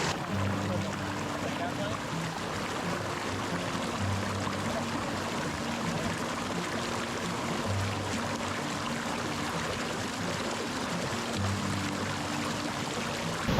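A waterfall, Mankayam Waterfalls near Braemore and Ponmudi in Kerala, roars as a constant, even rush of water that fills the background without letup.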